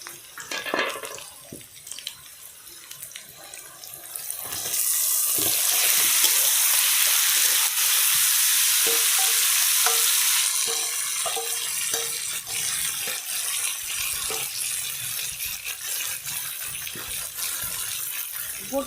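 Country chicken pieces hit hot oil in a pan, setting off a loud sizzle that swells midway and then settles, broken by stirring scrapes and clinks; no one speaks.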